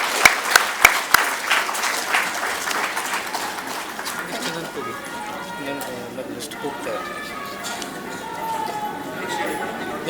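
Audience clapping at an award ceremony honouring student achievers, opening with a few sharp, separate claps and then swelling into a steady, dense round of applause from a crowd, with some murmured voices.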